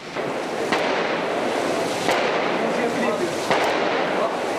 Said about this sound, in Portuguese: Os traficantes soltam fogos. E não param de atirar.